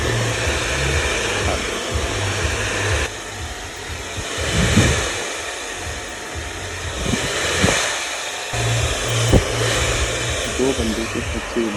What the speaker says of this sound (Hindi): दो बंदे के साइड से ब्लो ड्राई हो रहा है, मैं दो बंदे के साइड से ब्लो ड्राई कराता हूँ